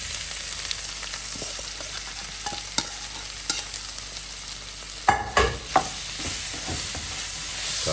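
Veggie chunks and yam sizzle steadily in a hot curry pan, with a few sharp clatters of stirring and tossing partway through; no one speaks.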